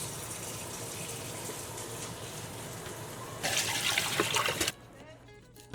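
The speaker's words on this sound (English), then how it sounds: "And now I'm going to add water. Cover the beef completely" Water is poured into a pot over beef with bones for sancocho, a faint background trickle that swells into a louder, splashing gush for about a second before stopping.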